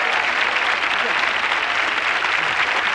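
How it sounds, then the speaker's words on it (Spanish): Dense, sustained audience applause fills a Spanish copla gala hall in 1992, a steady wash of many hands clapping at full strength throughout. "El aplauso más grande de toda España"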